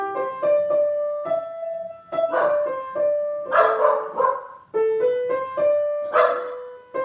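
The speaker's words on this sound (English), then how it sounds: "They'll stop barking in a second, I promise." Several dogs bark indoors in a home during a piano lesson, with repeated sharp barks in bursts that overlap ringing piano notes throughout.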